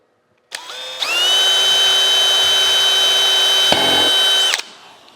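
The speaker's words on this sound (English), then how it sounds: "I'm gonna go ahead and pre-drill a couple of these holes" A power drill pre-drills holes in a wooden drum pattern for a Deere mill, a steady high whine lasting about four seconds after a brief start, with a short dip near the end, close and loud.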